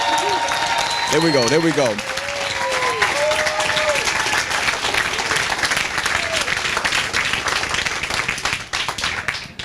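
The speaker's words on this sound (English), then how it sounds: "Come on. Hand clap." An audience claps steadily through a live Sunday gathering, a dense sustained round of applause from a crowd, while a voice speaks and a brief tone sounds over it.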